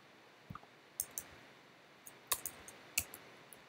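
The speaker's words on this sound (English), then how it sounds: "I'll type Fernando" Short bursts of keystrokes on a computer keyboard, sparse clicks and small clusters of taps spread over a few seconds, close and fairly quiet with no voices.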